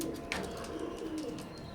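A pair of Teddy golden pigeons of Imamdin bloodline gives soft, low coos against a faint steady background, brief and close.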